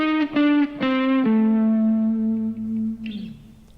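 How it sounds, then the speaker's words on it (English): Distorted electric guitar plays a short blues scale lick of several picked notes, each ringing with heavy drive and some echo, ending in a sustained bending note that fades out; no voices. "here we are with some blues scale licks that we can use to play in our solo"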